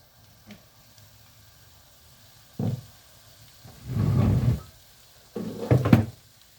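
Chopped onion frying in sunflower oil on a bottled-gas stove, giving three separate sizzling bursts that rise and fade, with near silence between them and no talking.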